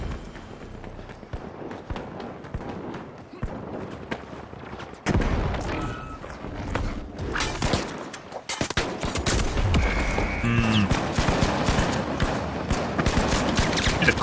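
Pistol gunfire in the video game The Finals: rapid bursts of shots and impacts crackle over busy game noise, growing denser and louder in the second half.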